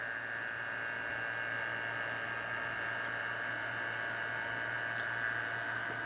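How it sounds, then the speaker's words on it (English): A vacuum pump running during an R600a refrigeration recharge gives a constant, even drone with a steady hum, faint and unchanging throughout. "I'm going to turn on my vacuum pump."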